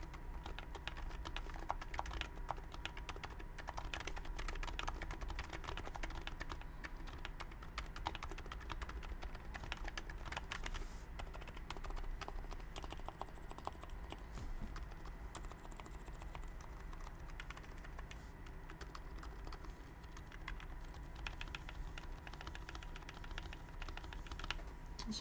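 Keystrokes on a Sho S60v2 mechanical keyboard fitted with a red copper plate, typed in a steady rapid clatter that runs throughout, quiet and close with a low rumble underneath.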